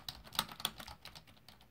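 Several key presses on a keyboard hooked up to a Samsung Galaxy S9+ phone, coming as a few sharp, irregular clicks before the tapping fades into quieter rustling.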